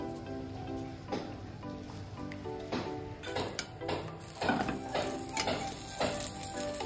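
Aloo kulcha sizzles in ghee on a hot pan as ghee is brushed over it, a steady crackle rising into louder bursts of frying, with faint background music underneath.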